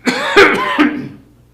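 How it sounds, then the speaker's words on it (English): A person coughs three times in quick succession, close and loud, the last cough trailing off into quiet. "how long have you had that cough?"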